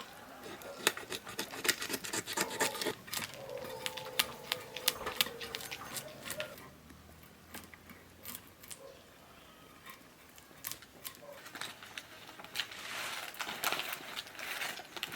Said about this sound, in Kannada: ಈ ರೀತಿ ತೆಗೆದು ಕ್ಲೀನ್ ಮಾಡೋದು ಮತ್ತೆಂತಲ್ಲ ಜಾಸ್ತಿ ಕಷ್ಟ ಇಲ್ಲ ಮತ್ತೆ ಸ್ಕೇಲ್ ಮಾತ್ರ ತೆಗಿಲಿಕ್ಕೆ ಭಯಂಕರ ಕಷ್ಟ ಉಂಟು